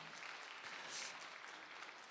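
Faint, dense applause from a church congregation at a worship service, steady and distant, with no voices over it.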